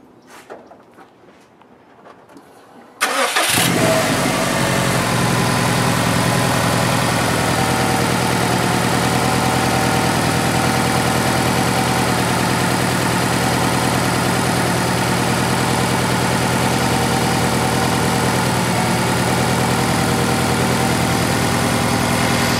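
A 2005 Subaru STi engine cranks and starts after a few quiet seconds, then settles into a loud, steady idle with a low rumbling drone while still cold.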